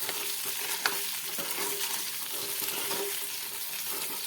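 Close, steady frying sizzle as bottle gourd fenugreek muthiya are stirred through hot tempering in a pan, with occasional light spoon scrapes and no talking.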